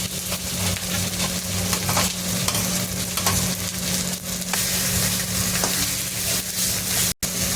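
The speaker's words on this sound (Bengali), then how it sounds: "এবার আমি ভেজে রাখা কচুগুলো দিয়ে দেবো।" Fried taro pieces stirred into frying masala in oil, with continuous close sizzling and repeated scraping and clanking of a spoon against the pan, plus a low steady hum underneath.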